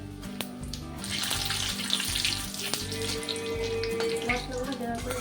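Whole spices crackle and sizzle as they drop into hot oil for a chicken curry, a bright steady hiss filling the pan at close range, with a faint voice in the background.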